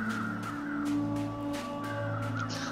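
Crows caw in short repeated calls near a body in the video game The Long Dark, heard over a steady low background hum.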